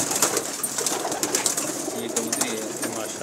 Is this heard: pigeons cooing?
yes